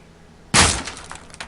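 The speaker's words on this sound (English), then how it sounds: "Breaking the boards." Boards breaking in the video game Payday 2: one sudden, loud cracking smash after a moment of quiet, then a brief scatter of smaller clattering debris.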